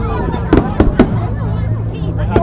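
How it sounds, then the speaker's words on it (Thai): Fireworks burst at the opening of the illuminated boat festival on the Mekong riverside in Nakhon Phanom, several sharp booms in quick succession with a last one later, over a steady crowd hubbub and nearby talk. "ก็จุดพลุ"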